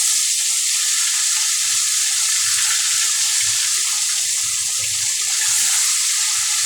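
Fish pieces fry in hot oil in a kadai, producing a loud, dense, unbroken hiss of sizzling bubbles close up, with faint low bumps as pieces settle.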